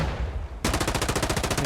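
In a competitive tactical shooter match, after a brief stretch of quiet ambience, a rapid automatic burst fired through a wall rings out as a loud, evenly spaced string of about a dozen shots.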